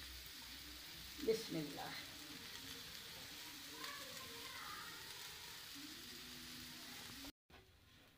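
Potatoes, cumin and coriander sizzle in hot oil with a steady low hiss and a few stirring scrapes, while a voice speaks briefly near the start.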